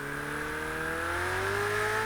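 A Ferrari 488 GTE race car engine in a racing video game idles and slowly revs with a rattly, buzzing drone, steady and close, its pitch gradually rising.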